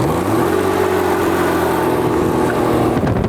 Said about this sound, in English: it feels so cool to light up this rear tire